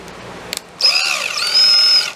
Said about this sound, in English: So we're going to drill these two out